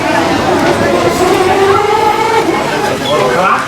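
A Morey's Piers tram rolls along the Wildwood boardwalk with a steady, continuous rumble and wheel noise. Voices are heard throughout.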